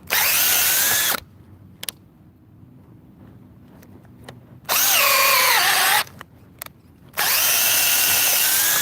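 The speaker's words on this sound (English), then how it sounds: "not a bad little drill driver, guys" A Teccpo TDCD3P 20V cordless drill driver whirs loudly in three bursts, spinning up and down, with quiet pauses and a few small clicks between runs.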